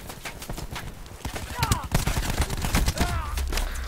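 Rapid gunfire bursts in Call of Duty Black Ops 4 multiplayer, loud and close, crackling in dense volleys over busy game noise, with a short whistling effect midway.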